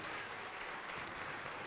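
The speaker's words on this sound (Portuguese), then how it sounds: "vamos aplaudir mais ao Senhor Jesus" A church congregation clapping for the Lord Jesus, a dense, even wash of applause lasting under two seconds with no voices over it.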